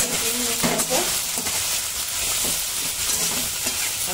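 Broccoli stir-fries in a hot pan with a loud, close, continuous sizzle, broken by occasional scraping stirs, and there is no speech over it.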